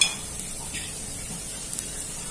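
Mushrooms frying in a pan as chilli powder and coriander leaves are added, giving a steady soft sizzle with faint stirring scrapes and a couple of small clinks, close and without speech.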